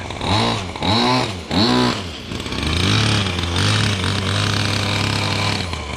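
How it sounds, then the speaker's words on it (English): A gas-powered Redcat Rampage MT V3 1/5-scale RC truck engine gives a few sharp rev blips, then settles into a steady, buzzing idle as it warms up, loud and close. "Kind of idle around a little bit, let her warm up a little."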